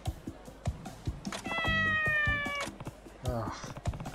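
A cat meows repeatedly in the video game Like a Dragon: Ishin!, a drawn-out wavering meow in the middle and a shorter one after, set against game sounds and clicks.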